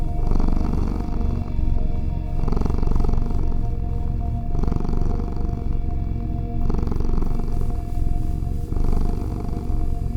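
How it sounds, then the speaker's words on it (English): A deep, loud purring vibration in a guided sleep session, rumbling in slow rhythmic swells of roughly two seconds each, close and continuous with no talk over it. "Join your senses and feelings to fully grasp this purring vibration."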